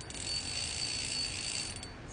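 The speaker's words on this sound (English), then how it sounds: "You want a drag to sound like this." Drag on a Carbon X2 1000 ice fishing reel with a full carbon body and carbon drag, giving a fast, continuous clicking buzz as line pays out. It is fairly faint, close and steady for about two seconds, with no talk.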